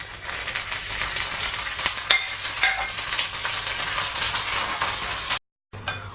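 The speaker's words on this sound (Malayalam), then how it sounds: "ഒരു മിനിറ്റ് ഒന്ന് സ്റ്റിർ ഫ്രൈ ചെയ്ത് കഴിയുമ്പോൾ ഇത് ബ്രൗൺ കളർ ആകും" Chillies and shallots stir-fried in hot oil for Kerala-style parippu curry, a steady, close, dense sizzle with scattered crackles and pops, no talk, cutting briefly to silence near the end before resuming.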